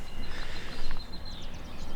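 Birds call and chirp outdoors on a quiet morning with an empty sky, a few short high tweets rising over steady background noise.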